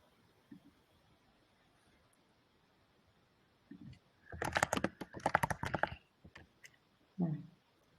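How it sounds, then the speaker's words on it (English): Faint computer keyboard typing during an online meeting: a few scattered taps, then a dense burst of rapid keystrokes, followed by a couple of isolated clicks. "there's somebody typing"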